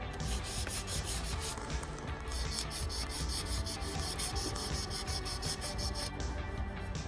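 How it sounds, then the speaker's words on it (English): Hand sanding with 400 grit paper wrapped around a wood block, a steady rhythmic back-and-forth rubbing scrape repeated rapidly, faint and close. "just a chunk of wood with a little bit of 400 grit on it."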